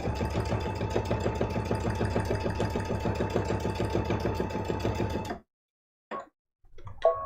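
Rapid, steady mechanical stitching of a sewing machine sewing a heart appliqué runs for several seconds, then stops, followed by a couple of brief clicks.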